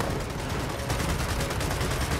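Constant rapid gunfire in the video game Gears of War 4, a dense unbroken rattle of shots that stays loud for the whole stretch, with no talking over it.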